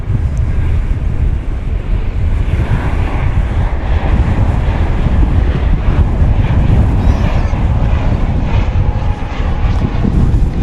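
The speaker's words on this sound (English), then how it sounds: "This is a flight that American operates just once a week on Saturdays" An American Airlines airplane at DFW Airport roars loudly and continuously up close, a dense engine rush mixed with buffeting wind noise on the microphone.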